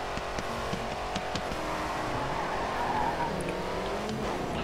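Dodge Charger race car in the racing game GRID 2, a steady engine drone with tire noise running continuously at moderate level, no talking over it.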